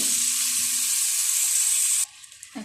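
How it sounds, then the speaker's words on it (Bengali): Vegetables with salt fry for khichdi, a loud bright hiss that runs steadily alone and then drops away abruptly near the end, leaving only faint kitchen noise. "আমি এর ভিতরে এই সবজিগুলো দিয়ে একটু ভেজে নিব।"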